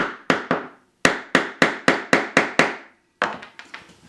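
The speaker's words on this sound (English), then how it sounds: "I haven't used my little mallet before." Small mallet tapping a gouge into wood to cut a recess for a thin holly inlay: about a dozen sharp, close wooden knocks in short runs with brief pauses, each ringing off quickly.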